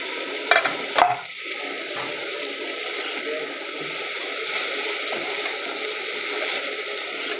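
Cauliflower pieces fry in oil in a pan with a steady, bright sizzling hiss, close and even throughout, opening with a couple of sharp utensil clinks and no talking.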